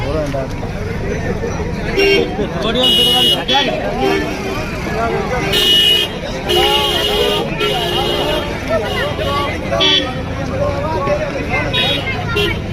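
A car edges slowly through a dense, noisy crowd at a Samajwadi Party leader's visit in Auraiya, engine hum under constant chatter and shouting, with a few short horn toots along the way.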